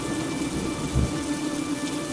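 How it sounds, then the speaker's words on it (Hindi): A thunderstorm with heavy rain pours steadily and loud, and a low thunder rumble swells near the middle, with no voices. "उस रात अचानक एक जोरदार बिजली की कड़क ने पूरे गांव को हिला दिया। तेज हवाएं पेड़ों को जड़ से हिलाने लगी।"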